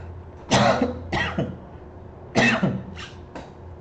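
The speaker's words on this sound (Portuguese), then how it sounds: "Desculpa o pigarro." Two bursts of throat clearing, each a rough, raspy hack followed by a shorter one, close and loud against a quiet background.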